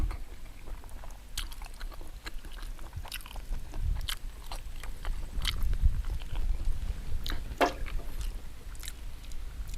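Someone bites and chews crunchy grilled skin with chewy tendon outdoors by rice fields, producing sharp, irregular close-up crunches and clicks over a soft background hiss.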